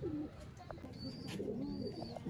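Pure Chapra pigeons coo in soft, repeated low warbling phrases at close range, with faint chirps and background noise around them.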